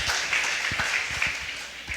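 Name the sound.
congregation applauding in church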